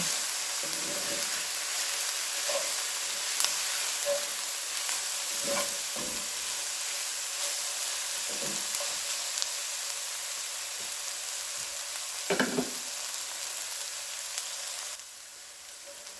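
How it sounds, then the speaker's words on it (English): Peppers and onions fry in a pan for chicken fried rice, a steady soft sizzle with occasional scrapes of stirring, close by and without talk, easing off near the end. "even though I'm just cooking the peppers and onions, it smells so good"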